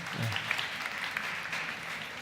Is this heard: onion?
no